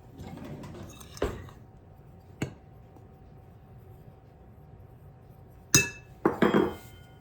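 Big spoon clinking against a glass bowl while making chipped beef and gravy, a few sharp, close chinks spaced apart and then a quick cluster of clinks near the end, in a quiet room with no talking.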